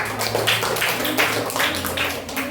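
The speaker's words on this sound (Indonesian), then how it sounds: "Tepuk tangan lagi dong." Children in a classroom clap in a rhythmic group pattern, bursts of hand claps repeating every half second or so, loud and close, with faint voices and a low hum behind.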